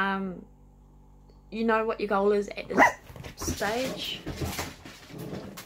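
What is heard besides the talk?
dogs barking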